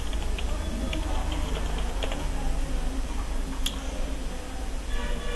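Computer keyboard keys tapped to enter an administrator username and password, steady close clicking over a constant low hum.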